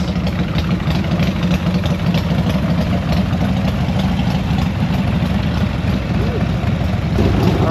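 A Harley-Davidson motorcycle engine idles on full choke after a repair, a steady low rumbling throb that holds close and loud with no break for the whole stretch.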